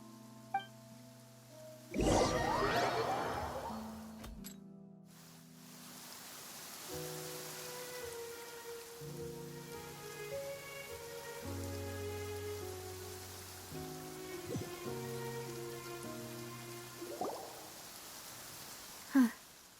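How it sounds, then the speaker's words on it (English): Steady rain falls in Genshin Impact, a soft constant patter under quiet game music with a few louder sound-effect bursts, heard alone without talk. "It's been raining non-stop for a few days now."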